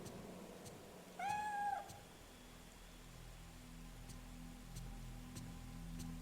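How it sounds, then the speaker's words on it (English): In the horror video game Fatal Frame III, a single plaintive cat meow sounds at a moderate distance. Faint steady rain-like hiss and sparse ticks continue underneath, with no talking. "Bloody cat."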